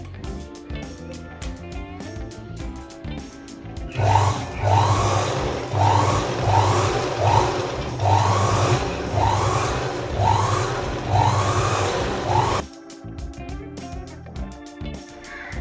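A sewing machine stitches the hook strip on a blouse in a rhythmic run of regular stitching pulses lasting about eight seconds, close and fairly loud, with quieter handling before and after.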